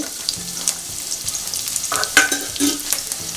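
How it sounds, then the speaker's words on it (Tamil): Onions frying in hot oil in a pan for pepper chicken gravy, a constant crackling sizzle punctuated by occasional clinks and scrapes of a spatula stirring, heard up close with no talking. "நல்லா வெங்காயத்தை நல்லா வதக்கிடணும்"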